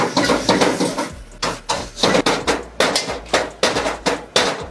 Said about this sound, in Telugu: మిశ్రమాన్ని మొత్తం మంచి కలుపుకోవాలి.